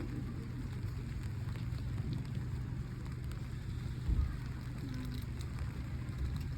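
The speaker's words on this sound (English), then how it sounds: "today the heavens shower down with rain for all of us here to be wet" Steady rain falls outdoors as a soft, even wash of patter, with no voices and only a faint thump near the end.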